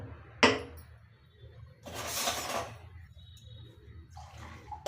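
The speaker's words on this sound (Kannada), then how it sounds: "ನಾನು ತೆಂಗಿನಕಾಯಿ ನೀರು ಇತ್ತಲ್ಲ, ಅದನ್ನು ಇದಕ್ಕೆ ಹಾಕಿದ್ದೀನಿ." Coconut water is poured into ground rice batter for kalthappa: a sharp clink, then a brief, close, splashy pour lasting about a second, and a softer pour near the end.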